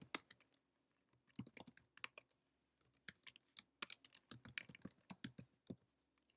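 Quiet, close clicking of computer keyboard keys as account details are typed in, coming in irregular bursts of quick taps with short pauses between words.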